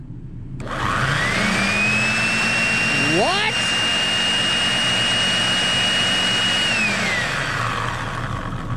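A Toyota Tacoma pickup truck engine runs steadily under a loud, high-pitched whine that rises, holds, then falls away, with a brief spoken word partway through.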